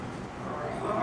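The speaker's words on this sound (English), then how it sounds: "This lion is done with roaring and now he is snoring" A storybook lion snoring effect gives a low, raspy, growling rumble that swells slightly louder as it goes, heard close up and alone.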